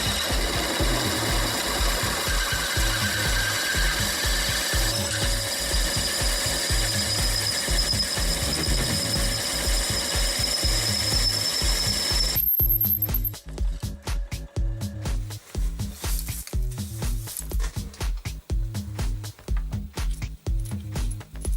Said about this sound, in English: Take a drill bit the size of a screwed bolt and expand the hole.